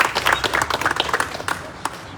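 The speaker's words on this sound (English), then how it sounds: "I want a louder applause for our firefighters that protect each and every one of us" A protest crowd gives a brief, uneven burst of clapping for firefighters. The claps are dense and close and fade after about two seconds, with some voices mixed in.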